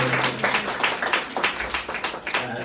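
Audience at an award ceremony breaks into brisk, moderately loud applause, a dense run of overlapping hand claps lasting a few seconds in a hall.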